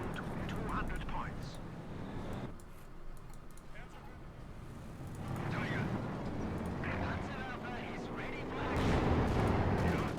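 An artillery barrage rumbles in the Company of Heroes 2 strategy game, deep booming blasts and rolling low thunder building in waves beneath ongoing commentary.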